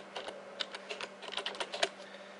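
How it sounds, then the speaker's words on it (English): A username being typed on a computer keyboard, a quick, fairly even run of light key clicks heard close up and alone, quiet and crisp. "So you simply type in your username"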